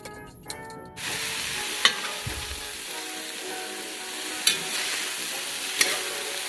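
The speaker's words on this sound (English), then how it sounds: "So I've got all my broccoli in the pan now, and I'm just kind of cooking it a little bit" Broccoli sizzles and fries in a hot pan, a steady bright hiss with a few scraping stirs of a utensil and a brief clatter near the start.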